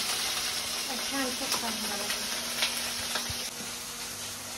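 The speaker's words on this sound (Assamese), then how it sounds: "ভেন্দি ভাজি তাই দিলাই" Okra frying in a pan on a home kitchen stove, giving a steady close sizzle with small crackles and a faint scrape or two, no talk over it.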